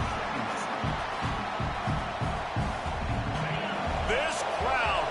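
A stadium crowd roars at a Texas vs Michigan college football game, a continuous dense wash of noise under steady play-by-play commentary, with a few sharp whistles and whoops near the end.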